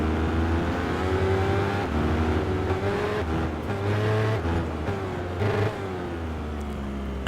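A motorcycle engine in the Tourist Trophy racing game screams at high revs through a race, steady and loud with pitch rising and dipping as it over-revs, alone without talk.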